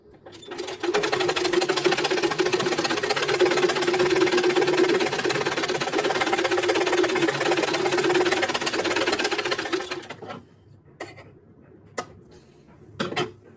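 A sewing machine runs steadily for about ten seconds, stitching a blouse with a close, even mechanical whir, then stops, followed by a few light clicks and handling taps.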